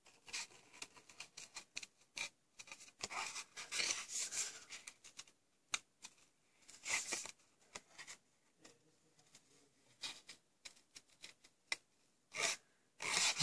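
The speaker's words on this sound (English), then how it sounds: "So I'm getting quite used to this fussy cutting actually." Scissors snip around a stamped image on card in short, close, irregular bursts of crisp cutting and rustling paper, with brief pauses between runs of snips.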